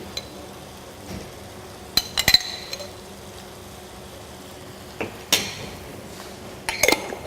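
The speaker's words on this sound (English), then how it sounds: "I think I'll spoon in just a little bit more of the tomato cooking" A few sparse metal clinks and scrapes of a spoon against a pot as tomato cooking sauce is spooned in, in brief scattered bursts over a quiet kitchen background.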